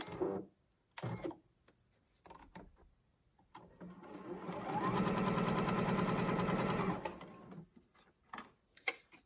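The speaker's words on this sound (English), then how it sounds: "I'm going to sew that one next" A sewing machine stitches a quilt-block seam for about two seconds in a steady whirring burst, close and moderately loud, framed by quieter handling clicks and fabric rustles before and after.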